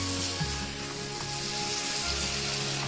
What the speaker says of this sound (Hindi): इसे हमने ढक के नहीं पकाना है, इसे भूनते भूनते हमने तकरीबन 5 मिनट तक पकाना है